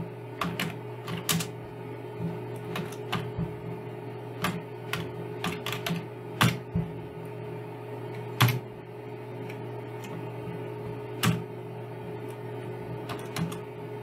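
Keys clack on a computer keyboard in scattered bursts as C# code is typed, close and moderately loud over a steady electrical hum.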